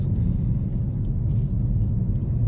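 Low, steady rumble inside a 2019 Lexus CT 200h hybrid car moving slowly around town, a muffled continuous road and cabin drone without any distinct engine note or voices.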